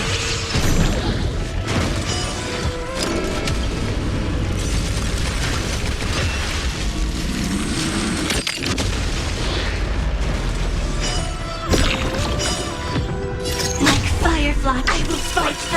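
Booming explosions and crashing bursts fill a Honkai Star Rail cutscene, dense and loud throughout, layered with mechanical clatter and some voices.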